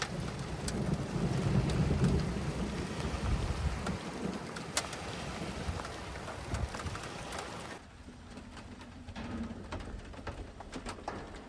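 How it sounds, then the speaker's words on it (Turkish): Steady hail hammering down with a low rumble of thunder rolling underneath, loud at first, then easing to a thinner patter. "dolu başladı. Gök gürlüğü."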